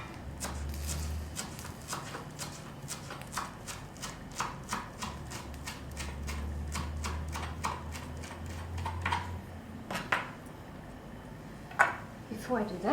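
A knife finely chopping pre-washed dhania (coriander) on a board, a quick run of crisp, even taps that loosens into scattered louder cuts near the end, with a voice speaking alongside.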